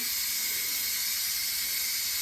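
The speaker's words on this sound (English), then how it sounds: "So I am manually releasing the steam." Steam is released manually from a pressure cooker cooking chicken, a loud, steady, close hiss with no break and no talking.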